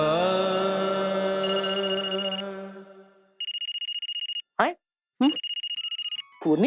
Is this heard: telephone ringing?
yes